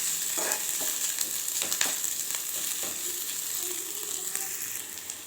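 Onions fry in oil for a village-style mutton curry and are stirred now and then. A steady close sizzle runs throughout, with a few scraping stirs near the start and no voices.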